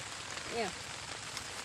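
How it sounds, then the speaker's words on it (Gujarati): Rain falls as a steady, faint, even hiss that fills the whole short stretch, with a brief tonal voice-like sound near the start. "વરસાદ ચાલુ થઈ ગયો છે"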